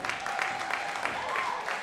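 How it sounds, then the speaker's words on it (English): Wrestling crowd at the Terry Fox Theatre in Port Coquitlam giving an ovation after a spinning calf kick: a brief, moderately loud burst of mixed clapping and cheering, with a faint tone underneath. "this crowd here at the Terry Fox Theater giving it a healthy ovation"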